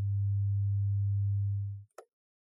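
A steady 100 Hz sine test tone hums low and pure for nearly two seconds, then cuts off, leaving a faint click and near silence.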